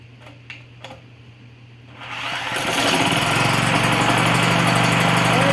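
A generator engine is cranked on its electric starter with choke and fuel on, a few faint clicks giving way to a loud, sustained whirring crank that does not catch, alone without talk.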